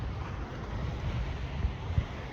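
Small, gentle sea waves wash onto the shore at Blackpool, a steady low surf murmur mixed with wind buffeting the microphone, with no voices.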